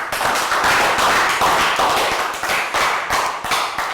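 A class of Year 3 pupils claps together in a lesson, a loud, dense burst of many small hands slapping steadily with irregular sharp taps throughout, no talking over it.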